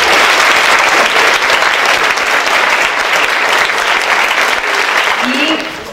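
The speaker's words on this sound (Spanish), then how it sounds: "Un aplauso, por favor." Loud, sustained applause from a crowd at a landscape architecture month event fills the room continuously and tapers slightly near the end. A voice briefly calls out under it.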